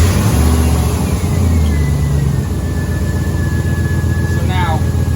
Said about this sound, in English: start the car up, and put the air conditioning on high.